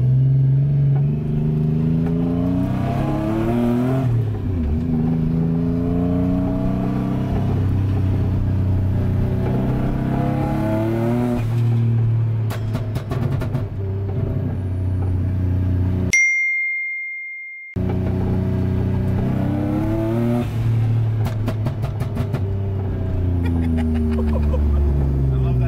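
Boosted Nissan 350Z engine revving and accelerating from inside, pitch climbing through gear pulls with shifts between, a brief chime and a short dropout midway, then more hard acceleration.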